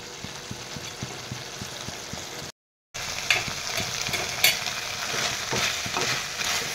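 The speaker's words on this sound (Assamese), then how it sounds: "এইখিনি এনেদৰে তলপৰ কৰি এফালৰ পৰা এয়া লৰাই দি দিওঁ" Duck meat curry with potato fries in a pan as it is stirred, a loud close sizzle with rhythmic spatula scrapes, briefly cut off by a short gap before resuming.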